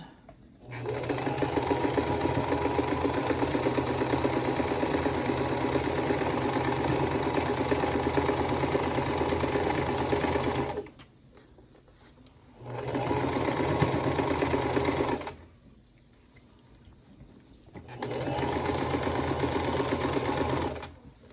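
A sewing machine stitches a quilt block seam in three separate runs: a long steady burst of about ten seconds, then two shorter bursts, with quiet pauses between them. The motor whirs close and even, and no one speaks.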